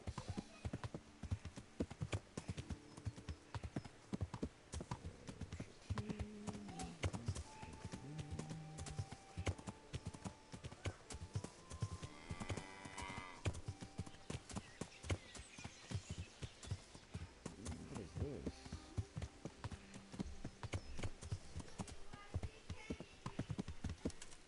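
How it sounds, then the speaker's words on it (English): In a PS4 game, a horse's hooves clip-clop in a steady, continuous rhythm, close and prominent, with someone speaking briefly over the hoofbeats. "Alright, let's get off the horse."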